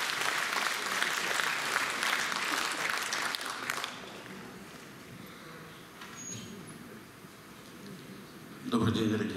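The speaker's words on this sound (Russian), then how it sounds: "Ваши аплодисменты." Audience applause fills the hall at a bard-song concert in the Black Sea Fleet Officers' House: dense, sustained clapping for about four seconds, then fading into quieter room noise, with a brief burst of sound near the end.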